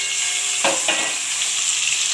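Onion, garlic and chillies frying in mustard oil in a kadai, a loud steady sizzle with two brief bursts as ingredients are stirred or added.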